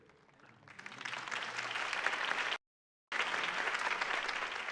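Steady crowd applause for a speech in a Batman video game swells and holds, a dense wash of many hands clapping, briefly cut off before resuming.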